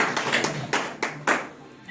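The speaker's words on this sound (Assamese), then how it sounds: "এটা হাত চাপৰিৰে" Scattered audience hand claps at a college retirement farewell ceremony for a non-teaching staff member: a handful of sharp, separate claps over about two seconds in a room with murmured voices.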